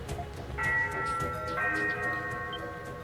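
A ship's departure bell rings in the game Ys VIII as a few resonant, tonal strikes that sustain and overlap, sitting over a low background hum.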